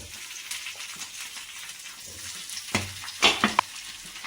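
Onions, green chilies and whole spices such as cardamom and cloves fry in a pan for vegetable kurma, giving a steady hiss and sizzle with a few louder stirring scrapes near the end.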